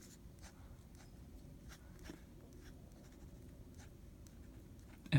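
A 1950s Sheaffer pen with a feather touch nib scratches lightly across paper while drawing, faint soft strokes in short irregular bursts over a quiet room hum, ending in a brief thump.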